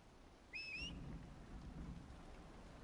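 Rain falls in a steady, faint wash during a storm in Dragon Age Inquisition, with a low rumble of thunder rising partway through and a brief high whistle-like chirp, all quiet and distant.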